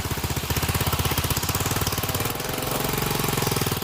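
A loud, rapidly pulsing vehicle engine chugs steadily nearby while revving through floodwater over rice fields, its rhythm briefly faltering before picking up again with a harder, faster beat.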